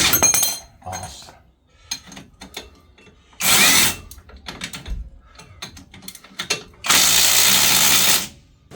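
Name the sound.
power tool undoing top bolts on VW MK3 Golf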